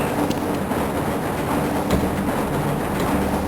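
An automated tram carrying a Black Mesa research employee through the Half-Life facility, rolling with a steady low rumble and faint rhythmic clatter, unbroken and close throughout with no talk.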